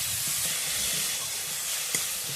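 Spice paste of tomato and ginger frying in a pan for crab curry gives a steady, close, bright sizzle and hiss, with a few faint clinks and no voices.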